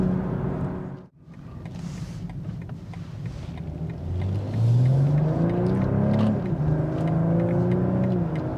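A 2022 BMW M240i runs along a highway with a smooth cabin hum, then after a brief dip the engine note swells and climbs clearly as it accelerates, staying loud to the end.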